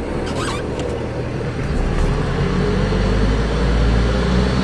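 A diesel caravan's engine pulls steadily through third gear on the road, a loud, continuous low rumble that builds slightly in strength as it accelerates, with no talk over it.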